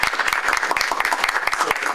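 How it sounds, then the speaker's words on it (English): An audience at a malaria modelling conference closing session claps steadily in dense, sustained applause filling the room, fairly loud and close. "Let's give him a round of applause."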